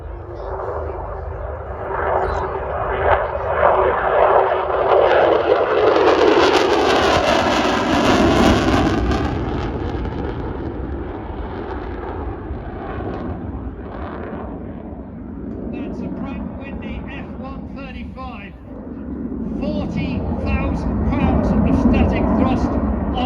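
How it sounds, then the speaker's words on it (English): A Lockheed Martin-built Royal Air Force strike fighter jet roars past at an airshow, its engine noise swelling to a loud peak and then sweeping away, while a commentator talks over the public address throughout. "it's the Royal Air Force's superb new strike fighter. Lockheed Martin built"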